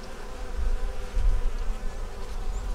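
Honey bees crowding a hive, their dense, continuous buzzing hum held close and loud, swelling slightly in the middle with no voices over it.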